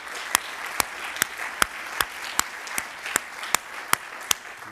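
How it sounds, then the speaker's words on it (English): Applause from an audience at a health system leadership meeting: a steady, even patter of many hands with a few sharp, regularly spaced claps standing out, continuing for several seconds with no talking. "Let's give him a round of applause."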